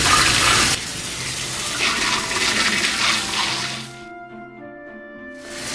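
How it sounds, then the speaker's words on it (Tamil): Plain tap water gushes and splashes into a new, unseasoned clay pot being filled until its contents are covered, loud and steady at first, then easing into a softer trickle with faint ringing tones near the end. "இப்போ இதை வச்சுட்டு இதுக்குள்ள தண்ணி ஃபுல்லாக இதை கவர் பண்ணுற அளவுக்கு இதுக்குள்ள தண்ணி விடணும்."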